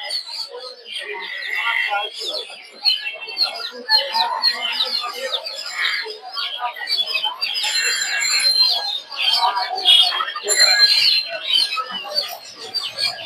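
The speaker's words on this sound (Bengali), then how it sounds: "দর্শক এই জায়গায় যে মুরগিগুলো দেখতে পাচ্ছেন এগুলো হচ্ছে পিজন মুরগি।" Chickens clucking and other birds chirping at a busy poultry and pigeon market in Mirpur, a dense, continuous chorus of calls close by, with people talking underneath.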